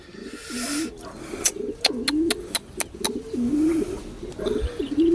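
Soft repeated cooing of a young pigeon nearby, one with both legs broken, with a series of sharp clicks or taps partway through.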